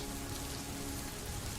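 Rain falls steadily as a soft, even, continuous hiss of drops on surfaces, faint and unbroken with no other sounds.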